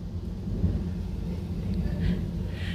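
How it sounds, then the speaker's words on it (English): Thunder rolls as a low, steady rumble during a heavy thunderstorm with pouring rain, fairly faint and continuous without sharp cracks. "How do you call that calming when it's lightning every 2 seconds and big thunder?"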